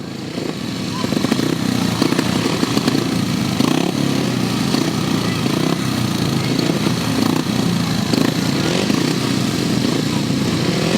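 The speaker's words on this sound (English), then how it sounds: "race 22 then, completing the qualifying ride for the 500 sidecars" 500cc sidecar motorcycles racing on a grasstrack, a loud, unbroken engine roar with surging revs as the outfits circle the track, with an announcer's voice over the PA underneath.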